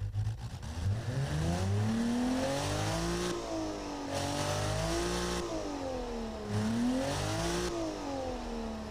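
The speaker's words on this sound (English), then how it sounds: "Listen to our 4 litre inline six." A 4-litre inline-six engine in the Automation car-building game revs up and down in smooth repeated sweeps, loud and close, with a steady rising and falling pitch throughout.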